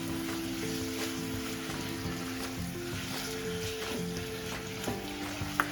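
Pieces cooking in melted jaggery in a pan for a fasting snack: a soft, steady bubbling sizzle under a low hum, with faint occasional stirring taps and a small clink at the end.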